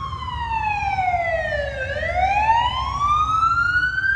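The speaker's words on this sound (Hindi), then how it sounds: "एम्बुलेंस है" An ambulance siren wails on a city street at night, a loud sweeping tone that dips and then rises again as it passes close by, with traffic rumble underneath and no talking.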